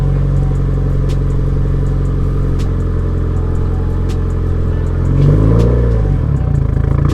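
A Subaru WRX idles steadily nearby, then its engine note shifts and surges briefly as the car is put into reverse, accompanied by faint light clicks.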